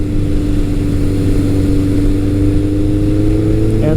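A Kawasaki ZRX1200R and a Suzuki GS1100 motorcycle cruise at around 3,000 RPM, making a loud, steady, even engine drone with a constant low hum and no pauses over a few seconds.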